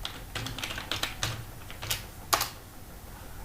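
Quick irregular keystrokes on a computer keyboard while writing C code, a steady run of close, crisp taps in a quiet room with no talking.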